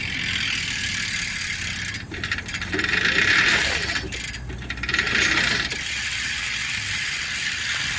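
A modified 26-inch EuroBike G4 e-bike motor at full twist throttle gives a steady high electric whine under a continuous hiss, with a few seconds of ratcheting, rattling mechanical noise partway through.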